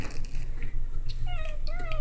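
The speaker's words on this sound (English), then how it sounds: "He's my baby cat." A young male cat gives a couple of short, rising meows close by over a steady low household hum, with a faint bit of background voice.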